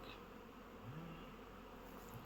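Honeybees flying around hives at an apiary, a soft continuous buzzing hum with a faint passing drone, quiet and distant, no talking.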